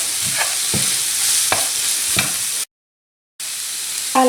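Cooked potatoes being mashed with the back of a spatula and fried in a well-spiced mixture, a close sizzle with repeated scraping strokes and a brief silent gap, no talking.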